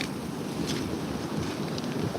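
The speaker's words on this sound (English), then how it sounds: "Man, it's windy out." Wind buffets the microphone on a beach, a steady low rumbling roar with slight gusty swells that holds loud and close throughout, with no one talking.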